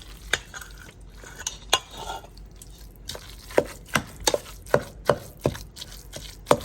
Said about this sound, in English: you want to chop those up